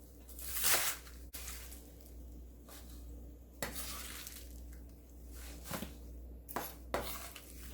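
A kitchen knife chopping a bunch of water dropwort (minari) for kimchi on a cutting board, sharp close knocks at uneven intervals, some clattering, no talking.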